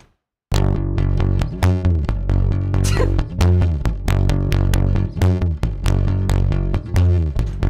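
A real bass guitar played dry with all processing removed starts after a brief silence, then plays a loud, steady rhythmic riff with punchy repeated notes and no talking.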